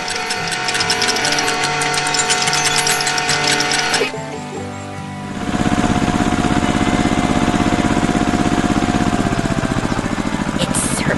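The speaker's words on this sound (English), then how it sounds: "The red tractor makes its way through the cornfields and is ensuring everything is gathered efficiently." A red tractor engine drives through a cornfield, loud and continuous, with a buzzing mechanical rattle. The tone shifts partway through as the machine's load changes.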